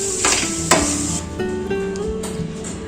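Aloo posto, potatoes in poppy-seed paste, being stirred as it fries in a pan: steady sizzle with scraping spatula strokes and a sharp clack against the pan near the start, close and continuous.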